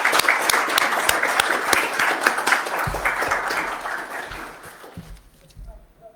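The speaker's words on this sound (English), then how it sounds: "can you please join me in a round of applause for Deidre and Andrew for their outstanding" Audience applause in a council chamber at an annual council meeting, a room of people clapping steadily for several seconds before the sound thins and tapers off near the end.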